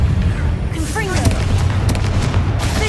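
Explosive blast from the Confringo spell in the wizarding action game Hogwarts Legacy, booming in a continuous dense roar of combat noise with a voice calling out over it.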